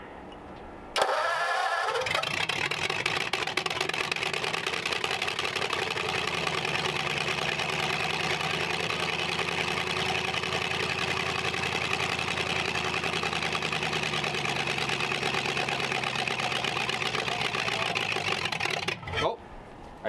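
A McCulloch supercharged Ford flathead V8 cranks and catches, then settles into a loud, steady idle with a whining supercharger tone. It stays up close for most of the run, and voices can be heard over it.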